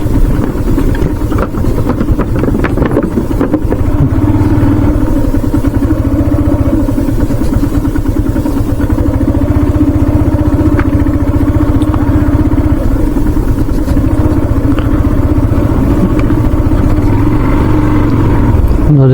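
A motorcycle ridden across a dry river sandbank in Bangladesh gives a loud, close, continuous engine drone with rattling clatter, steady for the whole stretch with no talking.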